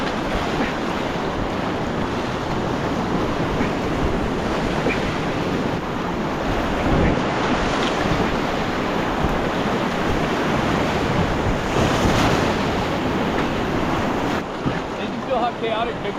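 Choppy big water on open ocean, waves sloshing and breaking continuously with heavy wind buffeting the microphone, a loud, chaotic wash that never lets up.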